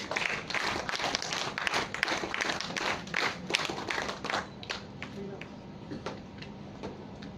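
Audience at a Bharat Scouts and Guides ranger fellowship event claps in a run of brisk, dense applause that gradually thins and fades out.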